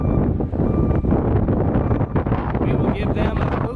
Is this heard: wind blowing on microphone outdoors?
yes